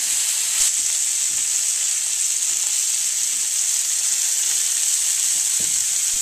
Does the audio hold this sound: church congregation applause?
no